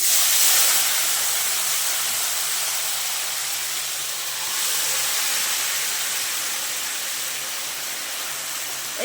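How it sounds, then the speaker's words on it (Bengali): Marinated chicken added to hot oil with whole spices such as cinnamon, cardamom, cloves, mace and black and white pepper, giving a loud, steady broadband hiss that swells at the start and stays constant, no talking. "এবার দিয়ে দিচ্ছি মাখানো চিকেনটা।"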